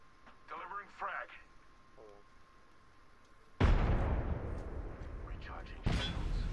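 A frag grenade goes off in the Apex Legends battle royale game, a sudden loud blast followed by a long rumbling decay and a second burst soon after, with brief radio-style voices and game noise just before.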